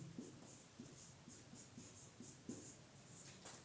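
Pen or marker strokes scratch repeatedly as example words are written by hand in a Hindi class, a steady rhythm of short scribbles with faint room hum and no talking.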